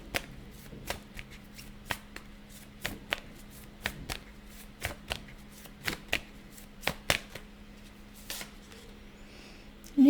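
Tarot cards are shuffled by hand nearby in a quiet room, making a series of crisp, papery snaps and soft riffles at an irregular, unhurried rhythm, ending with a brief louder rustle.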